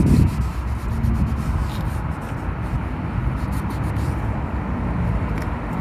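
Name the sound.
rubbing plastic restorer onto a car bumper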